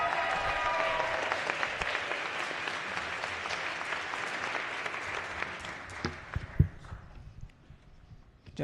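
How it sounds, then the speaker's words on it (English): Audience of legislators and guests on a state House floor applauding mediation-service visitors, a dense round of clapping that gradually thins and fades toward the end, with a few stray claps and a thump trailing off. "please give them a round of applause"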